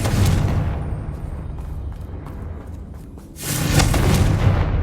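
The Confringo blasting spell goes off in Hogwarts Legacy with a loud rumbling burst at the start that fades, then a second booming blast swells near the end.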